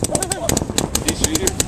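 Gunfire in a shooting game: a rapid series of sharp, evenly spaced shots cracks out close by, with excited voices talking over them.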